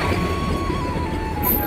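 A train pulling into a station near Guwahati, Assam, a brief steady low rumble of rolling wheels with a faint thin squeal rising at the end, heard from the platform without talk.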